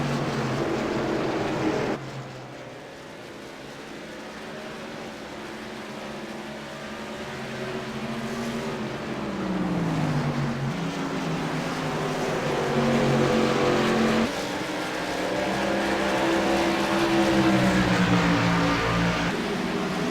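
NASCAR race cars racing at Richmond International Raceway, a steady roar of engines with rising and falling pitch as cars pass, continuous and moderately loud throughout with no talk.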